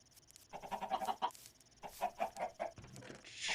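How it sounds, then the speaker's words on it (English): Chickens on a chicken farm in a video game cluck in quick repeated bursts, fairly faint, in two clusters separated by a short pause. "Got chickens everywhere."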